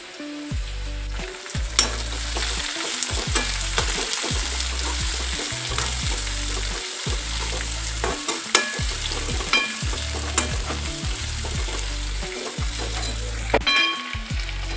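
Onion and garlic fry noisily in hot oil in a pan, a loud continuous sizzle broken by repeated rhythmic scraping and thumping of a spoon stirring close by, with no speech.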